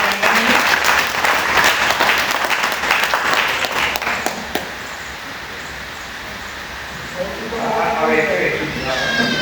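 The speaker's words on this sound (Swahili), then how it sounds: "Tupigie makofi" Applause from a church congregation at an elders' dedication service rises loud and dense at first, then thins out and fades into quieter room noise, with a few voices surfacing near the end.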